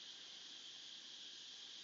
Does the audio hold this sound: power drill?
no